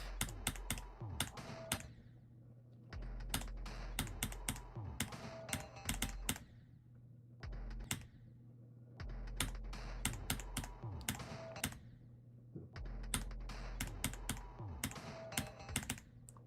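A computer keyboard clatters with rapid clusters of sharp key clicks and taps while playing a Geometry Dash level, bursts separated by short pauses over a low hum, without speech.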